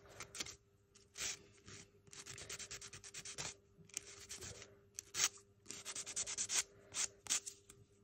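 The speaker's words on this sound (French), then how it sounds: "il s'agit simplement de passer un petit coup de lime" A small file rubs excess cured UV resin off a handmade resin flower, in short rasping strokes that come in quick bursts with brief pauses, close and fairly quiet with no talk.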